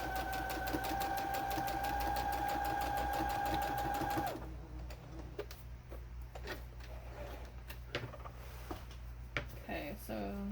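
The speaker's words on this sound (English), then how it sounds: "Back stitching at the beginning and at the end." A sewing machine stitches rapidly with a loud, even whir for about four seconds, then stops abruptly, followed by quiet scattered clicks and fabric handling.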